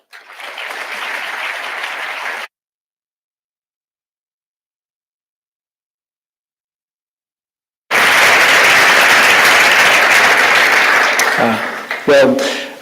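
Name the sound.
audience applause welcoming university president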